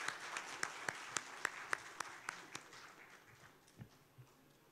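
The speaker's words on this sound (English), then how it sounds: "A big round of applause again, everybody." Applause at an HR Meet 2024 leadership event is faint and distant, with a few sharp, rhythmic claps standing out before it fades to a thin patter.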